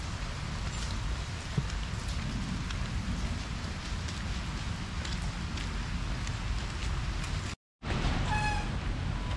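Steady rain pours in Royal Rajapruek Park in Chiang Mai, a loud, even hiss of drops on surfaces that cuts out briefly near the end before resuming.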